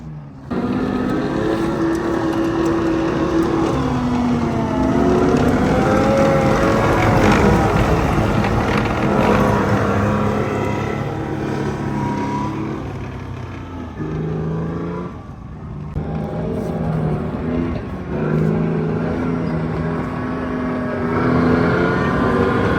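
An abandoned armored personnel carrier's engine runs loud and steady as the vehicle drives, a rough droning roar that rises and dips with throttle under heavy wind buffeting.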